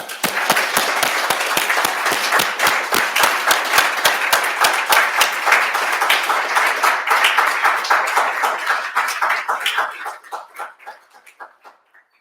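Room audience clapping for a society president after her inaugural address, a strong rhythmic burst of hands that holds steady, then thins to a few scattered claps and fades out near the end.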